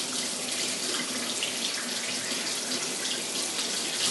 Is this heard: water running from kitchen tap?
yes